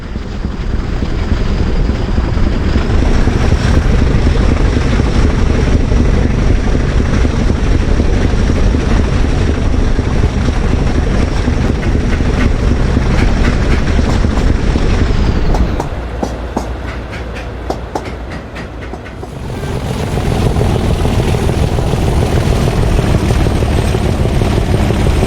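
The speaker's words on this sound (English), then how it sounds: "With the season done, 37407 departs Renford on the 6 Zulu 37 Renford Yard to York Frau Europa." Class 37 locomotive 37407 pulls away from a yard in a train simulator game with a loud, continuous diesel drone and rail rumble, then a run of rhythmic clicks before the engine note returns.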